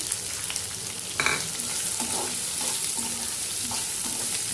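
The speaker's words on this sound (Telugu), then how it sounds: "ఇది కొంచెం ఫ్రై అయ్యాక కొన్ని ఆనియన్స్ ఫ్రై చేసుకుంటాను" Onions and curry leaves fry in a pan, a steady broadband sizzle with a few soft stirring scrapes, close and continuous with no talking.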